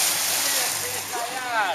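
A waterfall rushes steadily as broadband water noise throughout, with people talking and calling out nearby over it.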